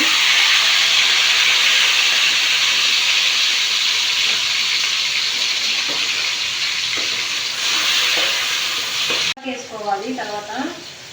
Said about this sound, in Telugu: ఆయిల్ వేడయ్యాక టమాటా ముక్కలు, ఉల్లిపాయ ముక్కలు, పచ్చిమిర్చి వేసుకోవాలండి